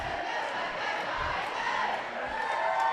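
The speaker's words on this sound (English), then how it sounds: "As we get a good look at our cheerleaders cheering on our girls." Cheerleaders cheering at a school girls' basketball game, a steady crowd roar with shouted cheers filling the gym, continuous and fairly loud, with voices mixed throughout.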